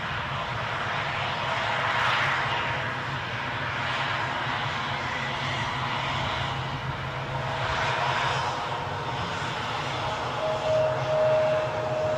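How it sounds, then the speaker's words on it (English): Loganair airliner at Newcastle International Airport, heard in the background as a steady, broad jet roar that swells and fades a little over several seconds, with no talking. "there's another Loganair in the background"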